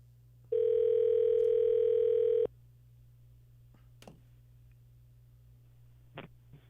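A single steady dial tone from a phone routed through a speaker sounds for about two seconds, followed by quiet with a couple of faint clicks and a brief beep, with no talking.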